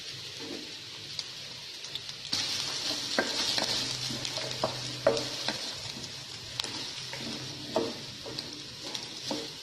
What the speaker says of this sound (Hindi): ये सारी सब्जियां मैं डाल लूंगी इसमें और इनको अच्छे से इसके अंदर फ्राई कर लूंगी।